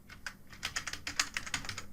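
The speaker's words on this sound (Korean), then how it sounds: "자, 키보드에서 윈도우 키 누르시고요. 그 다음 그림판이라고 씁니다." Rapid typing on a computer keyboard, a quick close run of light key clicks at an even pace, about a dozen strokes in two seconds, with no voice over it.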